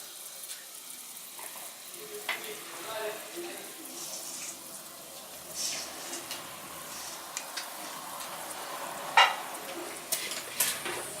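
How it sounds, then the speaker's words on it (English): Cloves pop and sizzle in hot oil while a village-style field gram rice dish is cooked, a continuous close frying hiss broken by scattered sharp crackles and pops. "Let the cloves pop in."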